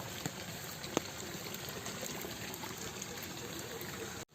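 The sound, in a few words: muddy rainwater flowing along a flooded road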